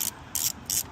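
A ratchet loosens a 13 mm nut on the main ground strap of a Porsche Cayenne. It gives three short, crisp bursts of pawl clicking in quick succession, heard close up with no talking.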